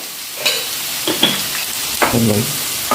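Curry leaves sizzling in hot oil in a pan for pepper chicken, a close steady frying crackle broken by several scraping stirs of a spoon.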